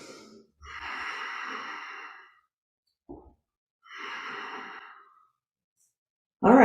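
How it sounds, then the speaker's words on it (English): Ujjayi breathing during an intermediate yoga practice: two long, hissing, ocean-like breaths several seconds each, separated by a brief catch of air, then a sharper, louder breath starting at the end, close and with no talking. "Ujjayi breath."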